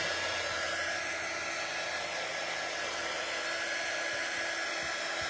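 A small hair dryer blows on a damp chalk-painted T-shirt, a constant even whoosh of air held at moderate volume for several seconds, with no voices.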